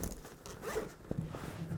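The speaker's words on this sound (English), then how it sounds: "When you don't need it, that tucks back in there, and it zips out of the way" A zipper on an Eagle Creek Gear Warrior 65L wheeled duffel bag is pulled closed in a steady, close, scratchy run that lasts a little under two seconds, with no talking over it.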